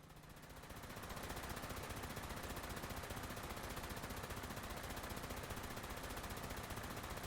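Defensive turrets in Fallout 76 firing nonstop, a fast, even stream of rattling shots held steady at moderate distance throughout.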